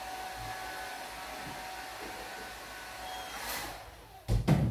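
A hair dryer blows in a steady whooshing hum for several seconds, then clunks and rustles as it is handled near the end, with no talk.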